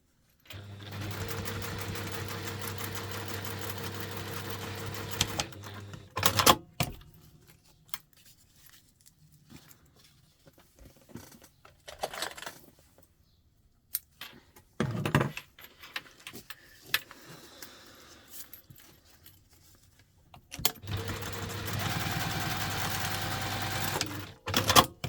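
A sewing machine top stitches around a fabric travel pod, running in steady whirring bursts at the start and end, with quiet handling, clicks and brief pauses between.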